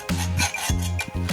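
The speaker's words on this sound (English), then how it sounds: "the hacksaw basically just slides off, and this is similar to if you're trying to cut steel" A hacksaw slides back and forth across a hard copper super alloy without biting in, giving a few rough, rasping strokes at a steady rhythm, close and alone.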